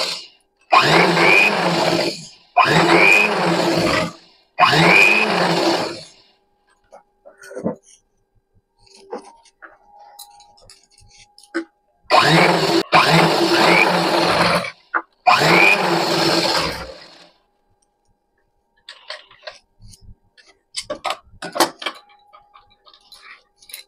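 A sewing machine puts pressure stitches into a bra-cut blouse, running in five loud, steady bursts of about one to two seconds each, with quiet gaps of faint handling and clicks between them.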